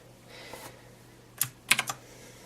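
A few computer keyboard keys are pressed in a quiet room, one isolated click followed by a quick burst of three clacks close to the microphone.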